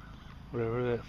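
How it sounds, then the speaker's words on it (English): Waterfowl, likely ducks, give a loud, nasal honking call at close range in an outdoor pond setting, following a short stretch of quiet background. "Four ducks right there the whole time."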